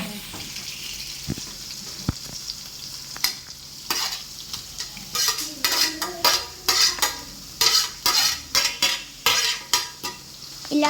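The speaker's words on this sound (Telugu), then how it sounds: "ఈడైతే ఇప్పుడు ఇంకొద్దిగా అదే కరివేపాకు వేసి కలుపుతుంది." Curry leaves and onions frying in a hot pan, stirred and tossed with a metal spoon; a constant sizzle runs under sharp, regular scraping clinks that grow busier and louder toward the end.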